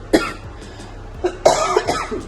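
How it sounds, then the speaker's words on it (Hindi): A few sharp, close coughs, one short cough followed by a brief pause and then a rougher burst of two or three coughs. "मेरी खांसी भी नहीं ठीक हो रही"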